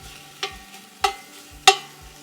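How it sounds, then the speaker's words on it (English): A metal spoon stirring beef chunks in oil in a stovetop pan, three distinct clanking strikes against the pan over a soft sizzle, close and alone. "Ooh, that metal spoon's making a lot of noise."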